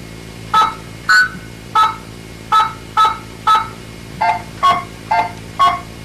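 Ten distinct blue box multi-frequency tone beeps dial a 10-digit phone number in an even, brisk rhythm, each short, clear, near and equally loud, with small silent gaps between them.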